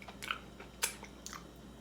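Crunchy biscuit cooked on the grill being bitten and chewed up close, a few sharp crisp crunches spaced irregularly over two seconds, the loudest near the middle, against quiet background.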